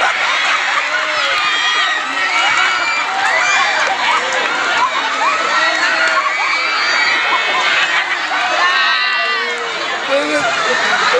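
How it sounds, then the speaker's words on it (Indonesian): A large crowd at an Indonesian religious gathering cheers, shouts and whoops loudly and continuously for a child, with children's voices and chatter mixed throughout the dense, sustained noise. "Tepuk tangan untuk anak ini luar biasa."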